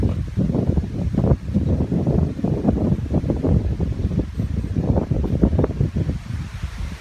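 Strong wind gusts buffet a porch on an island. Loud, rushing waves of air swell and ease, rattling the microphone with a rough, continuous roar. No one speaks.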